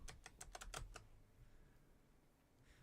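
Brief burst of keystrokes on a computer keyboard, about eight quick clicks in the first second, close and quiet, then a low room hiss.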